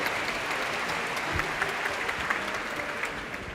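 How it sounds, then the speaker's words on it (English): An audience at a live social experiment event breaks into applause for a volunteer. A broad, even wash of clapping holds at moderate volume for a few seconds with no talking. "Round of applause for Nick,"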